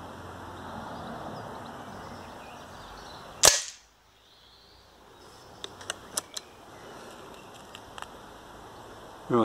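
A single sharp crack from an air rifle being zeroed on dot targets, followed by faint small ticks and clicks in a quiet setting.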